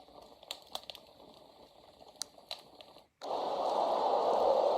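Crackling fire setting on a portable white noise machine switches on after a few soft clicks of button presses, becoming a steady, close hiss with a dense crackle that continues evenly.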